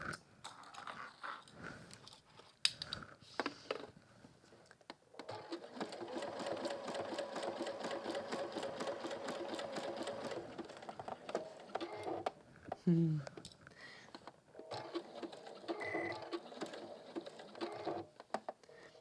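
A sewing machine stitches a hemisphere pin cushion with a steady mechanical whir and rapid needle clatter, running in long stretches between brief stops while a person talks quietly.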